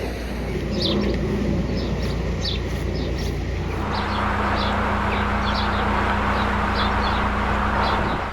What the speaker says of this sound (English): Sparrows up there are in full voice.